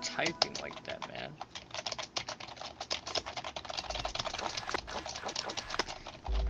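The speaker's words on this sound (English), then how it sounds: "How are you typing like that, man?" Rapid, dense clatter of a computer keyboard being typed on fast and continuously at close range, with a voice talking faintly underneath.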